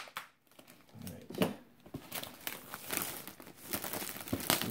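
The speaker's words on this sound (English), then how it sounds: "Just need to split that plastic." Scissors crinkle and split the plastic shrink wrap on a large board game box, with close crackling and rustling bursts that come in irregular bursts and grow louder toward the end.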